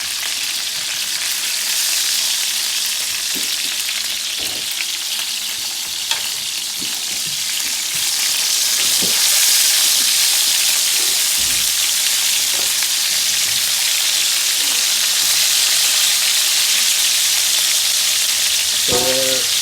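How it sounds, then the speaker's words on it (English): Seasoned oxtails brown in a hot skillet for Jamaican cooking, giving a loud, steady sizzle and fry with occasional pops and stirring scrapes and no talk. "I'm gonna bring it to a brown in my skillet before I start boiling it."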